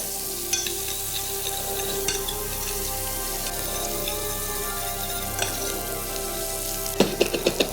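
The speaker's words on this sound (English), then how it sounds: "sweat the shallots off." Shallots sweat in a pan, giving a gentle, steady sizzle with occasional soft stirring scrapes and a few clinks near the end; close and quiet, with no talking.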